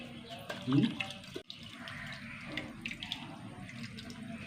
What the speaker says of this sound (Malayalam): നമ്മുടെ കുടിവെള്ളം ഒഴിച്ചു കൊടുക്കട്ടെ